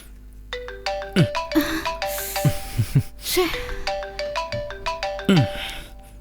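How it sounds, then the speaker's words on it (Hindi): A mobile phone ringtone plays a bright, repeating electronic melody in a scene from a Hindi-dubbed South Indian horror film, loud and continuous with low rumbling beneath it. "संयुक्ता का फोन है यार"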